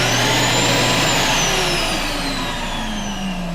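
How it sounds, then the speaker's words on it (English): A Bizzle Garage Pro wall-mounted garage vacuum runs steadily, a loud, close, continuous motor roar with a high whine that dips slightly toward the end, with no voices over it. "I'll start with my vacuum here. This is a Bizzle Garage Pro."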